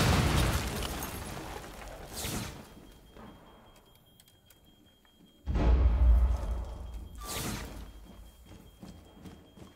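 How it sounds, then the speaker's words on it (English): Grenades go off in Rainbow Six Siege, several loud, booming blasts spaced a few seconds apart, each with a sharp onset and a rumbling tail, and quieter game ambience between them. "They're trying to lob grenades in"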